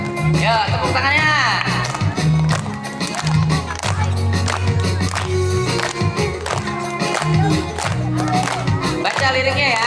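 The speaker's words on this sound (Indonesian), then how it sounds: "ya, tepuk tangannya." An audience at a festive Ramadan gathering claps along, with steady rhythmic hand claps and crowd cheering mixed under a singing voice and talk.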